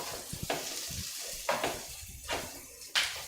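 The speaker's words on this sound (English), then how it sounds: "This was the sizzling I anticipated in the beginning." Salted vegetables sizzle in a frying pan, a soft hiss broken by several sharp bursts of crackle as they are stirred and tossed, with low clunks of the pan between, close and fairly quiet.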